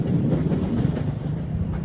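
Parahyangan passenger train cars being shunted at a station, a low rumbling roll with soft rhythmic wheel clatter, steady and moderately close, no voices.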